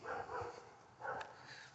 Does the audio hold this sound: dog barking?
yes